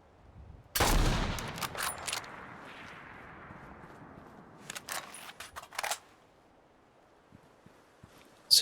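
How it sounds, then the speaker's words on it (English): Gunfire from a heavy weapon in Fallout 4: one loud burst blasts out near the start, then a reverberant tail fades away, and a second cluster of sharp shots cracks out about four seconds later before a single late bang. "It's a very loud weapon"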